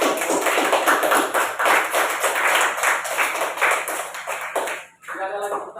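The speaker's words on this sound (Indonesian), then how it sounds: "Oke, tepuk tangan dulu." Students in a classroom clap their hands together in uneven rhythmic bursts for a presenting group, fairly close and loud, fading out near the end as a voice briefly speaks.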